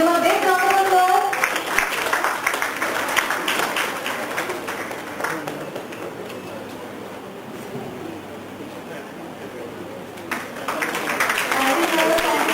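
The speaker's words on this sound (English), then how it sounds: "Give him a big round of applause." A conference audience at a college applauds as a guest is called to the stage, with a broad wash of clapping in the middle and voices heard at the start and end.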